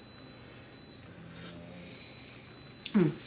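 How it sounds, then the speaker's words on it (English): A kitchen timer's steady high-pitched electronic beeping runs through most of the clip, with quiet room noise underneath and a brief clatter near the end. "I'm going to turn off the timer that is beeping over there."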